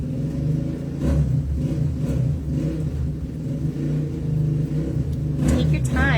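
A motorcycle revving somewhere in the background, a low rumbling engine drone that pulses and surges throughout, partly beneath a person talking close by.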